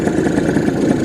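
Gilera SP02 motorcycle engine idling steadily, with a constant, fairly loud mid-pitched running hum and no pauses through the short stretch.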